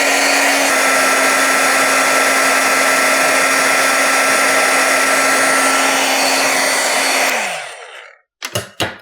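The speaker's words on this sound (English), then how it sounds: "careful with the heat gun. It gets really hot" Heat gun melting embossing powder on cardstock, a loud steady close blowing whir that runs for several seconds, then cuts off and winds down, followed by a few brief knocks.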